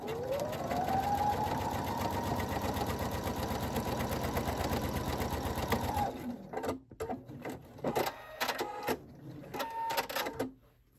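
A sewing machine quilts fabric for a small mug rug, its rapid needle chatter running steady and close for about six seconds before stopping, followed by soft fabric handling and a few short stitching bursts.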